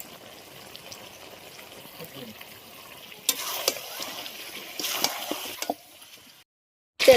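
Chicken fries in a pan with ginger-cumin paste and coriander powder: a close sizzle with scraping stirring that grows busier midway, then drops away near the end.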